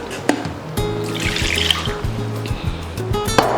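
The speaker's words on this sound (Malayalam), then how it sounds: "നമുക്ക് ഇച്ചിരി വെള്ളവും കൂടി അതിനകത്തോട്ട് ആഡ് ചെയ്ത് കൊടുക്കാം" A little water poured into a pot of Kerala-style chickpea curry, a short splashing trickle over a steady low background hum, close by.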